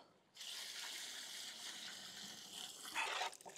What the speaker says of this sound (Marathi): आपण आता भाजीमध्ये पाणी घालून घेऊ,